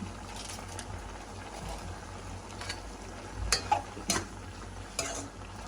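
A utensil stirs and scrapes through a salted curry in a cooking pot, with soft sizzling underneath and a few louder clinks near the end.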